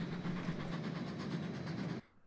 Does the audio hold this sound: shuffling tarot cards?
no